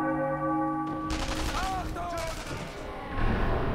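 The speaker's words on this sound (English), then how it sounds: "Now you can hear a church bell." A church bell rings in the Sniper Elite V2 video game, a sustained tolling tone that cuts off as loud bursts of gunfire and battle noise take over, with voices in the mix.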